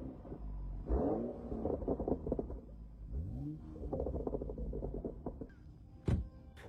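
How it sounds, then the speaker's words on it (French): A BMW 335i's exhaust burbles and rumbles at close range, swelling in rough pulses with a couple of louder surges and a sharp bang-like burst near the end. "Écoutez cet échappement, écoutez ça les gars."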